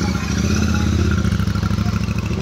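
A Royal Enfield Super Meteor 650 runs with an SS304 stainless steel aftermarket silencer, giving a loud, close, steady thumping exhaust note that pulses rhythmically throughout.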